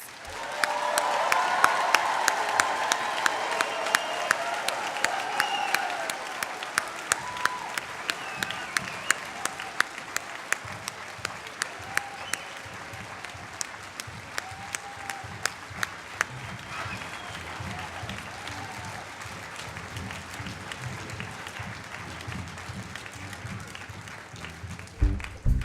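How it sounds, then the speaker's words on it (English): Graduates at a DigiPen Institute of Technology commencement receive applause from a large audience, a broad wash of clapping and crowd noise with scattered cheers that gradually thins out toward the end. "Please join me in giving a round of applause for all of our graduates."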